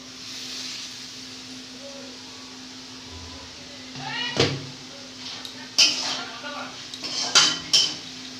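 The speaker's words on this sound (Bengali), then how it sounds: "এবার গ্যাসের ফ্লেমটা কমিয়ে দিয়ে ঢাকা চাপা দিয়ে দেবো।" A metal lid clanks onto a cooking pot of dalia on a gas stove, with several sharp clinks and rattles over a low steady hiss.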